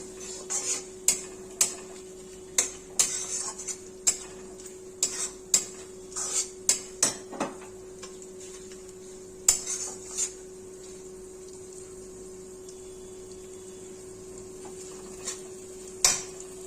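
Potatoes being stirred and sautéed in oil in a pan for Bengali mochar ghonto, heard as a series of sharp metallic clinks and scrapes of a utensil against the pan over a steady low hum, clustered early and then sparse.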